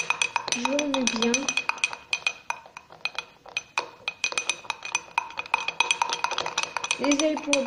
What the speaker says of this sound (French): Désolée pour le bruit de la cuillère.